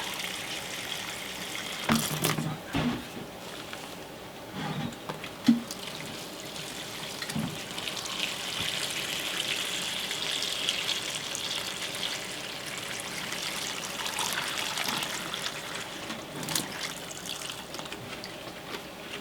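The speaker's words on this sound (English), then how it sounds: "He uses his hose to pour water in the front and the back of the package" Water poured from a hose into a bag of Reptichip coconut substrate makes a continuous soft gushing and trickling, with a few louder handling knocks and crinkles early on.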